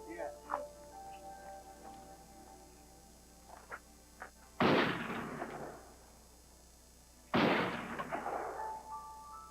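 A 12-gauge shotgun chambered for 2 3/4-inch shells fires twice at targets outdoors, each a loud sharp blast with a long decaying tail, spaced about three seconds apart after a few faint clicks and handling sounds.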